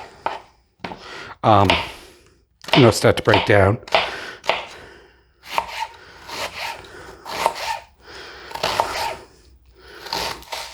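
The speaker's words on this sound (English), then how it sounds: "our onion, just going to give it a rough chop." An onion is rough chopped with a knife on a cutting board, uneven bursts of quick blade strikes and scraping under a person talking throughout.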